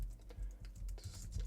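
Quick, soft clatter of a computer keyboard as a project name is typed, a short run of light keystrokes close and quiet.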